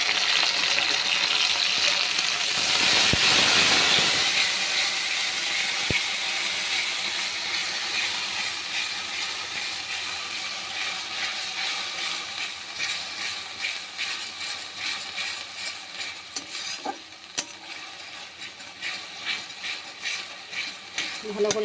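A ground spice paste fries in a pan with a loud initial hiss that settles into a steady sizzle, and the spatula scrapes and taps more often toward the end.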